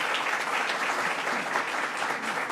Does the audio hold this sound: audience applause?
yes